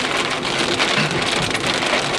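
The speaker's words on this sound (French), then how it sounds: "le retour de la pluie maintenant" Rain pours steadily outdoors, a dense, loud, even hiss with no breaks and no voices across the short stretch.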